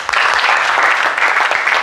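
A class of students in a badminton lesson gives a short burst of steady, fairly close hand clapping that lasts about two seconds, with no speech over it.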